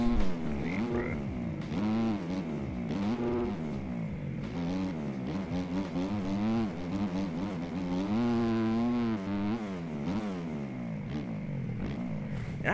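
A Suzuki dirt bike engine in the MX Bikes motocross video game drones steadily for the whole stretch, its pitch repeatedly rising and falling as it revs through gears, with no talking.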